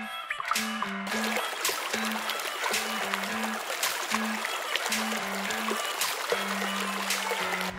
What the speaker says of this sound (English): Come across a little mini waterfall there.